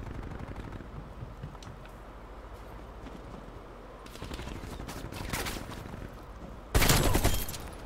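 Call of Duty Cold War gunfire crackles in rapid bursts, starting as faint distant shots, then building into steady automatic fire and ending in a loud, close volley.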